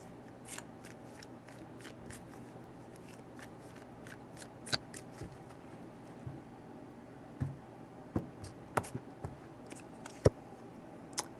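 Tarot cards being shuffled: a steady, quiet riffling and sliding texture with scattered soft snaps and taps, a few sharper clicks near the end, no voices.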